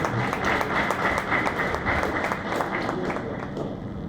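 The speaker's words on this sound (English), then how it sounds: "Yes, you can applaud." Audience applause in a hall at a university inaugural lecture, a steady wash of many hands clapping at moderate volume that continues throughout and slowly thins toward the end.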